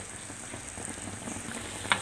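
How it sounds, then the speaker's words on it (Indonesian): Bread-coated ice cream frying in hot oil, a steady, quiet hiss of bubbling oil with a faint crackle and one small tap near the end. "panaskan minyak, lalu kita goreng es krim yang tadi"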